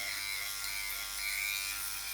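A Philips Body Groomer 7000 trimmer runs on body hair with a continuous close electric buzz, high and steady with slight wavering as it moves over the skin.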